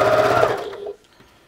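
A Janome 1600P sewing machine running at maximum speed gives a fast, loud mechanical whir close by for about a second, then cuts off abruptly into near silence.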